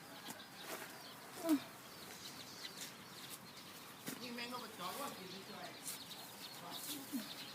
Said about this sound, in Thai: นกจิ๊บเต็มไปหมดเลยอ่า